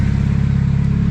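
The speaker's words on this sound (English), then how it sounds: "It's idling a lot better." A Nissan 240SX engine idles steadily with an even, smooth low rumble, close by and continuous, with no voices.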